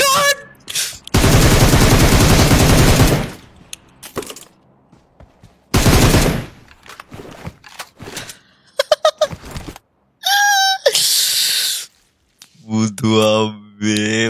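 Sniper gunfire in the PUBG Mobile video game: a few loud, sharp shots separated by gaps, mixed with other game effects, with a person talking between them.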